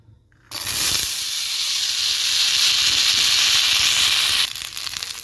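Green peas tipped into hot oil set off a loud, steady, close hiss of sizzling that starts abruptly, holds for about four seconds, then eases off, with no talking.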